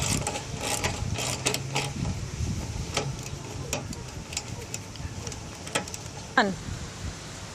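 A ratchet wrench backs out a fender bolt on a 2014 Chevrolet Malibu, giving sharp metallic clicks in short uneven runs, close to the mic, with a faint voice in the background.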